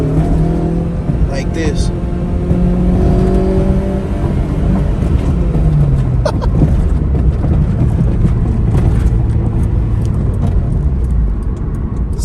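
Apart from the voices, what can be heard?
K24-swapped Acura RSX accelerating and revving in second gear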